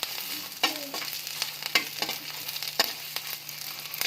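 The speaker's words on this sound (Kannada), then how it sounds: "ಈರುಳ್ಳಿ ಚಟ್ನಿ ನೋಡಿ ಫ್ರೈ ಆಗ್ತಾ ಇದ್ದಾವೆ" Onions for onion chutney frying in a pan, a soft continuous sizzle broken by repeated clicks and scrapes of a spatula stirring, with a faint steady hum beneath and no talk.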